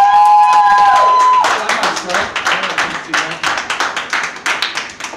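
Audience in a theatre applauds after a showcase performance, dense clapping that thins into scattered individual claps, with a voice heard briefly at the start.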